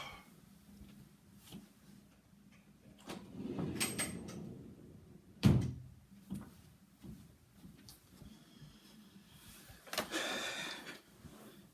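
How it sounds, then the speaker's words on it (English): A door swings shut indoors with one sharp thud midway, set among quieter shuffling and rustling in a room. "I gotta close the door here."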